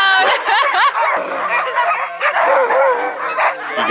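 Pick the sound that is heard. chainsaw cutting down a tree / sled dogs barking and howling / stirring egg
sled dogs barking and howling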